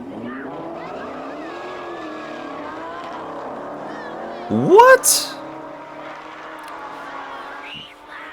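Muscle cars and supercars racing in a drag race: a sustained revving engine roar rising in pitch, with a sharp loud burst of acceleration midway, under someone talking.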